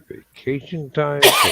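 A person sneezes once, sharply and close, right after a few spoken words, the burst cutting in loudly at the end.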